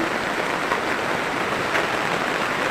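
Heavy rain pouring down in Butong City during a power outage, a dense, loud, continuous hiss of drops on surfaces with no pauses, alone without talk.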